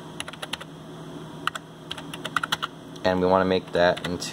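Quick, uneven bursts of clicking keystrokes on a computer keyboard of an old 386 machine as a command is typed, then someone speaks briefly near the end while the keys pause.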